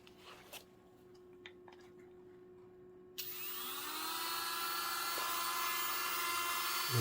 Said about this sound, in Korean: 그러면 여기다가 이제 구멍을 내야죠